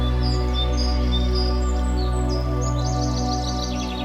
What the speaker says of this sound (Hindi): ताजी पहाड़ी हवा और पक्षियों की मधुर चहचहाहट